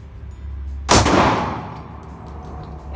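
A single loud gunshot at an outdoor shooting range, sharp and near, ringing out with a decaying echo tail before the background settles again.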